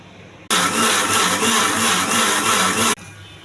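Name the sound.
mixer grinder blending onions, mustard seeds, cumin, tomato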